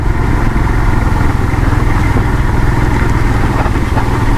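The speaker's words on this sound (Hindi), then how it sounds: "तो सामने में जो एक बाइकर दिख रहा है" A motorcycle engine drones steadily and close on a cold mountain road, a continuous low mid-pitched rumble with no pauses through the short stretch.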